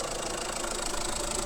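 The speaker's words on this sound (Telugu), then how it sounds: "నెక్స్ట్ ఇప్పుడు ఇంజన్ సౌండ్ ఎట్టుంది, స్మూత్ ఉందా" A 2021 Tata Harrier XZ+ diesel engine idles with its bonnet open. The sound is a steady, close mid-pitched rumble with a faint knocking texture and no talk.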